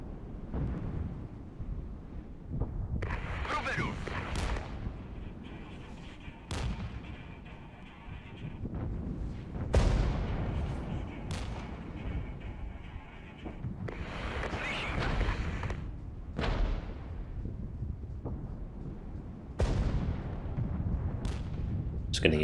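Gunfire and heavy weapon blasts from the Regiments war video game, with booming shots and explosions in irregular bursts over a constant low rumble of battle.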